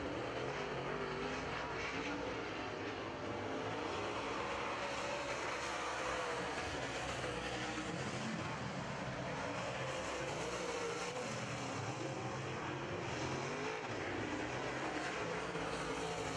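Late model race cars roaring around a dirt track during heat races, a dense continuous engine drone rising and falling as cars pass, loud and sustained without clear talk.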